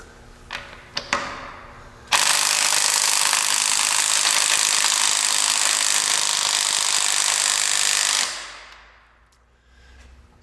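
A DeWalt DCF813 12V 3/8-inch impact driver hammers steadily against a car's lug nuts for about six seconds, a loud continuous rattling burst after a few brief taps, then winding down and fading.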